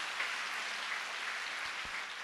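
A church congregation claps in praise during a prayer service, giving a faint, steady, distant wash of many hands clapping together without pause.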